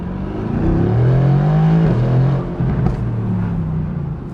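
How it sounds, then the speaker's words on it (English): A Mercedes-AMG GT R Roadster engine revs up hard and climbs in pitch, then drops and revs again, a loud, close exhaust note with a rising and falling whine. "The exhaust note is addicting to listen to."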